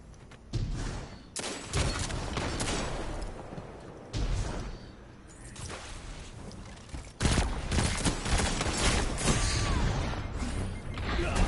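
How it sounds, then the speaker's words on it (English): Pulse rifle shots in a PS4 shooter come as timed bursts of sharp, loud cracks separated by quieter gaps, with mechanical clatter and other game effects in between. "Whereas I have to time my shots using this pulse rifle"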